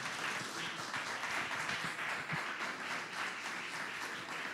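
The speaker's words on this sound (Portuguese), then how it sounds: "Aplauda a palavra do Senhor." A church congregation applauds steadily during an evening worship service, a dense, even wash of many hands clapping throughout, with no clear voice on top.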